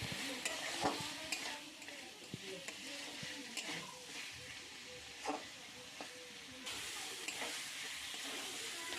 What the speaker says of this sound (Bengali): মাংসটা দেওয়া হচ্ছে, যে মাংসটা ভেজে রাখা হয়েছিল আগে। ভালো করে কষিয়ে নেওয়া হবে।